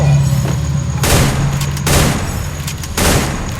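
M590 shotgun gunfire in the Free Fire mobile battle game, a few loud sharp blasts spaced about a second apart over a steady game background hum.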